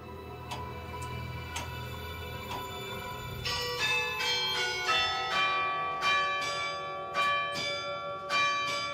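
Church bells of a carillon ring out in a steady series of clear, resonant strikes, sparse at first and then louder and closer together, with long ringing tails and no talk.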